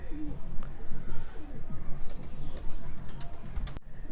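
A newly paired couple of pigeons in a cage coo softly and low, the murmuring calls faint beneath steady background noise, with a few light clicks and a sharp knock near the end.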